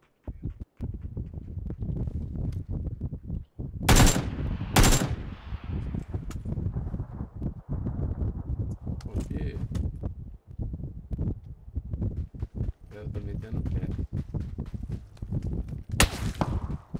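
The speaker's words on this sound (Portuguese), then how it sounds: "Tem cara dando tiro em mim aí, ó." Gunfire in a video game aimed at the player: sharp bursts of shots, two very loud close reports early and another near the end, spread among scattered quieter pops and rustling footsteps.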